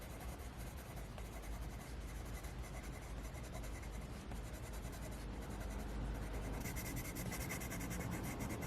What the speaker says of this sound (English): Sharpen this gold pencil.